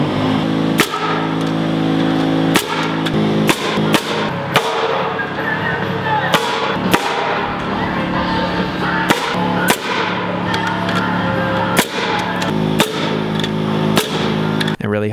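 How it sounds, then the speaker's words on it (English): A pneumatic nailer driving nails through wooden studs into a top plate during stud wall framing, a rapid irregular series of loud sharp bangs over background music, with a voice faintly present. "So using the pneumatic nailer for this, definitely really fast, really quick"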